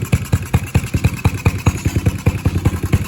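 A Baja 70cc dirt bike engine idles close by with a rapid, even putt-putt rhythm and a slight rattling clatter.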